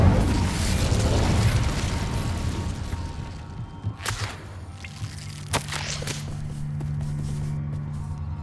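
A burst of fire from the Incendio spell in Hogwarts Legacy, loud and roaring at first, then fading into a low rumble broken by a few sharp pops and crackles.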